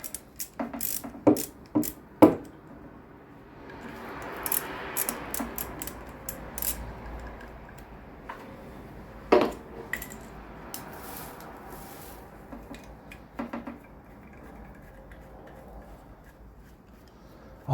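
Bolts being loosened and pulled from the brake caliper of a Suzuki GSXR 600/750 K4-K5 motorcycle: close, irregular clicking and scraping metal clatter with light handling rustle throughout, no talk.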